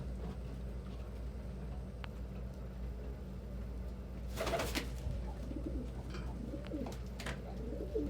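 Pigeons coo softly in a bird room against a low steady hum, with a brief burst of fluttering wings midway and faint traffic rumble in the distance.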